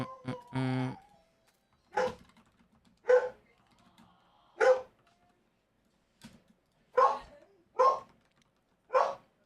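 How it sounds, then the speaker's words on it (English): Dogs yap and bark indoors, with about seven short, sharp barks spaced a second or so apart after a brief electronic chime, close and fairly loud against near silence. "Oh my god, you can hear my dogs yapping."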